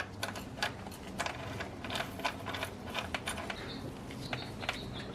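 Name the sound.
threading and tightening an 8mm bolt on tensioner pulley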